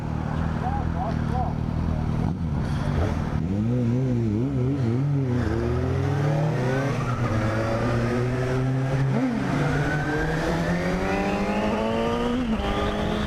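A Suzuki GSX-S750 motorcycle engine revs and accelerates through several gears, its pitch climbing and dropping in repeated sweeps, loud and close with wind rush, while a rider talks over it.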